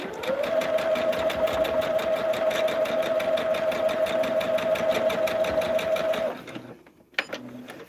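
A sewing machine runs steadily, close and loud, stitching triangles onto a swirling star block for a quilted table runner, with a bright whine under rapid needle ticks, then stops abruptly followed by faint handling sounds.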